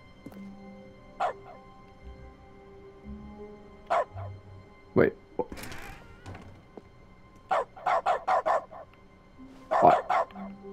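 A dog barks repeatedly inside The Stanley Parable video game, sharp yips at close range, with single barks early on and a rapid cluster of four or five near the end, and a brief spoken word between them.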